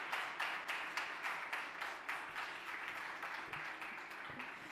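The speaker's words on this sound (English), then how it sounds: "Clap your hands." A crowd at a live event at the Römerkastell in Stuttgart claps together in a steady, even rhythm, a quiet but regular beat of unison hand claps over soft background noise.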